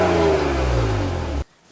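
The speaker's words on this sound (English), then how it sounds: "you guys can hear some good tasty 6-cylinder sounds of a BMW" A BMW E36 328i coupe's six-cylinder engine revs loud and close, the pitch sliding down as it eases off, then cuts out abruptly into near silence.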